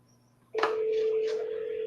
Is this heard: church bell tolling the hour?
no